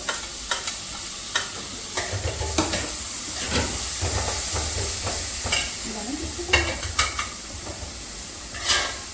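Onions and tomatoes sautéing in a pan while chilli chicken is being cooked: a steady close sizzle with scattered scrapes and clinks of stirring over about nine seconds, with no voices.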